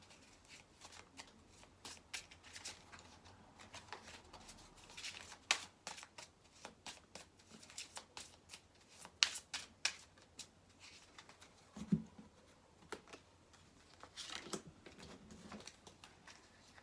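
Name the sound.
shuffling a deck of tarot cards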